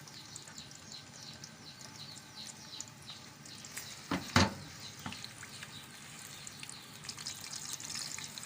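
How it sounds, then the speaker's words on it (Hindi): Onions frying in hot oil over a high flame for haleem, a soft, continuous sizzle with scattered crackles and one sharp clattering burst midway, no voices. "अब मैं इसमें प्याज डालूंगी और थोड़ी देर इसको तेज़ आग पर पकाऊंगी"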